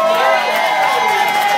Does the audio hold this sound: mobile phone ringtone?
no